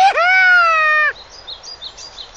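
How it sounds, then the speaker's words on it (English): A bright, sustained whistle-like tweet rings out, then a run of soft, quick bird chirps flickers high in the background. "Listen to those birds chirping."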